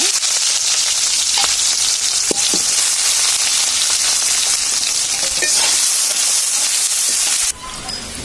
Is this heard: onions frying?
yes